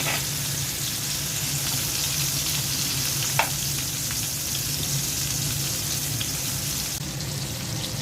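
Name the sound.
eggplant frying in oil in a frying pan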